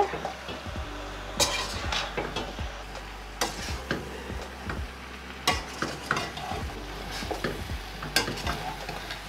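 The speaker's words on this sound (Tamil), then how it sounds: "இந்த தூளை போட்டு நல்லா பிரட்டிட்டு" Ladle stirring roasted chili powder into Sri Lankan chicken curry in a pot, a series of close scraping and clattering strokes in irregular rhythm over a soft background sizzle.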